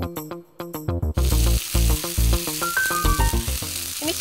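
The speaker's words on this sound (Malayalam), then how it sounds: "ഇനി ചിക്കൻ ഒന്ന് മൂത്താ മാത്രം മതി." Chicken and onions frying in a pan for a chicken mezhukkupuratti, a steady sizzle under prominent tonal background music with rhythmic chords.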